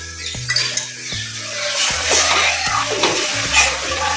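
A spoon works through cooked moong dal and water in a pot, giving repeated close scraping and clinking strokes against the metal with a soft wet slosh. The strokes are steady and moderately loud, with no voices.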